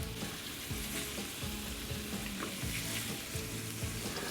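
Scallops, shrimp and onions sauté in olive oil, giving a steady, close sizzle with repeated scraping stir strokes in a regular rhythm; no voices.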